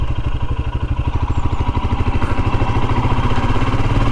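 A Royal Enfield Himalayan motorcycle riding along Cornish country lanes, its single-cylinder engine thumping in a loud, steady, rapid pulse close by, with no one talking.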